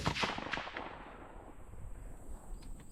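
A 6 Dasher rifle fires one sharp shot at the start, and its report fades into a long rolling decay across an outdoor range, fairly faint overall.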